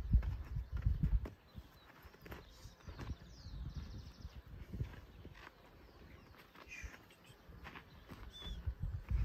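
A tame Criollo gelding's hooves clip-clop on the ground in loud, irregular steps, strongest at the start and end, with quieter shuffling between.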